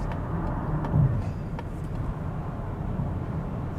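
A Mazda CX-50 hybrid accelerates under full throttle, its engine a steady, muted hum heard from inside the cabin with road and wind rumble underneath and no voices.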